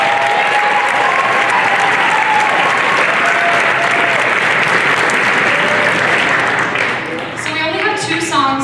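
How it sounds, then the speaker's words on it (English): Loud, dense audience applause fills a school auditorium at a middle and high school Christmas concert, sustained and even for several seconds before thinning out near the end. "So big round of applause for him because he is."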